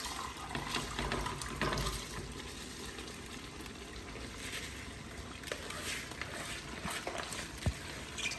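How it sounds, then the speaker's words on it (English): Water pours and splashes out of a hot pot holding cooked chicken, a faint continuous trickling and sloshing with small clatters near the end. "So what I'll do is just take out this water."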